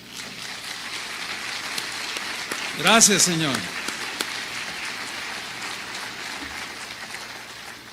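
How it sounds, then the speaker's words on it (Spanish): A church congregation claps steadily in a continuous wash of applause, while a voice cuts in briefly partway through and then the clapping carries on alone. "¿Cuántos le dan un aplauso al Señor?"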